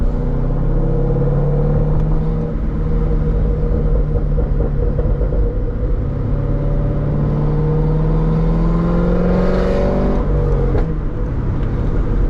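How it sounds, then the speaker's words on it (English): A Chevrolet C6 Corvette Grand Sport V8 drones loudly from inside the cabin, its revs swelling and easing across the stretch, with a few sharp pops near the end. "sometimes this thing it almost sounds like backfire because of the pops"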